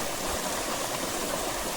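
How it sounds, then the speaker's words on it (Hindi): Water from a farm tank rushing steadily through a pipe, a continuous loud close hiss and gush with no pauses. "तो अभी अपने पानी टैंक में मैंने चालू कर दिया है, पानी आ रहा है इस वाले पाइप से"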